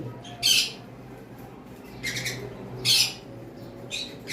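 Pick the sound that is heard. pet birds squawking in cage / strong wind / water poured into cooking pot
pet birds squawking in cage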